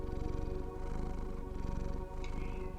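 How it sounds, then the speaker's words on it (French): A cat purring close up, a rapid, rhythmic low rumble with regular pulsing breaths, soft and continuous. "Et tandis que tu entends déjà ces ronronnements"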